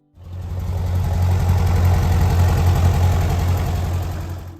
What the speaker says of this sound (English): The sound of that little Perkins engine was something special, a steady, confident rumble